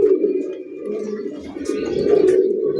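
Velvet pigeons give a steady, close, throaty cooing that rolls on continuously, with a few faint chirps and clicks in the background.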